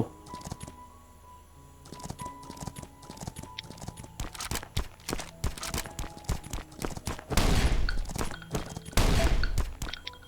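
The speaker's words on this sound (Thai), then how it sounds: "และมีเสียงปืนครับ" Sharp gunshots crack out in scattered bursts over a busy soundscape in the survival game Last Island of Survival, with clicks and two loud, noisy blasts near the end.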